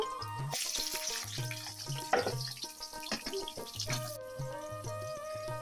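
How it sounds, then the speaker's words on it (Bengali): Onions frying in hot oil crackle and sizzle steadily, with clinks of a spoon against the pan and recurring low tones from nearby equipment, no talking. "এখন পেঁয়াজটা ভাজা ভাজা করব"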